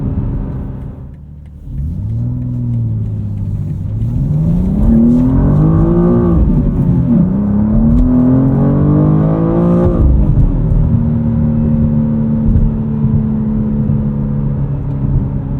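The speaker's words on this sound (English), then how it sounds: "Let's do a second gear pull here." A 2025 BMW M2 with a six-speed manual accelerates hard through a second-gear pull, its engine note rising loud and close, dipping briefly at a throttle lift, then climbing again before settling into a steady cruise drone.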